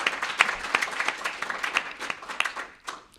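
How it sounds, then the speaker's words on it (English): Conference audience applauding at a Somali diaspora youth event, a dense burst of many hands clapping that swells early and then gradually thins out, moderately close. "we should probably hold the applause"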